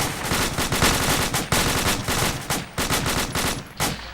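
Rapid bursts of rifle gunfire crack out close and loud during fireteam drills, with shots following one another almost continuously in an uneven rhythm and no voices.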